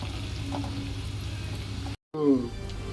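Spices sizzling in hot oil for a prawn pickle, a steady close frying hiss with a brief gap and then a louder bubbling surge as more goes into the pan.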